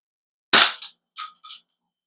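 An HK416 airsoft rifle fires single shots, producing two close, sharp cracks with short snappy mechanical echoes and silence between them.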